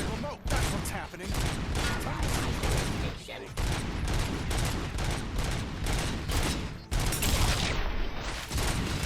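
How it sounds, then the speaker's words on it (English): Dense, continuous gunfire rattles through a firefight in RoboCop: Rogue City, loud bursts overlapping almost without pause, with a brief lull near the end. "Gunfire."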